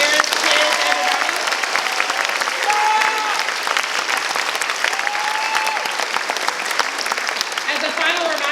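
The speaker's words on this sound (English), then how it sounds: "let's give another round of applause for all of our clinicians, parents, kids, everybody" A concert audience at an all-star band event gives sustained, loud applause for clinicians, parents and kids, a continuous dense crowd clapping with faint voices and cheers mixed in throughout.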